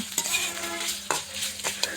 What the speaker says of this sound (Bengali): পেঁয়াজের সঙ্গে শুটকিটাকেও নেড়ে চেড়ে একটু লাল লাল করে ভেজে নিচ্ছি।